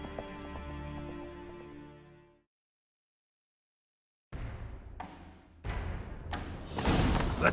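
Horse galloping in The Witcher 3 Next Gen, a video game; hooves and thuds rise in loud bursts after a silent gap, following a stretch of game music, with the pace growing heavier toward the end.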